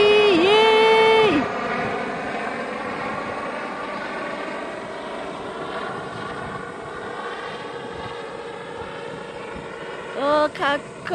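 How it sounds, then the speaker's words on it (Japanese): A low, steady helicopter rumble with rotor-like drone holds throughout, with a higher whistling tone at the start and end, while voices speak nearby. "おー、ヘリコプター来た ー。"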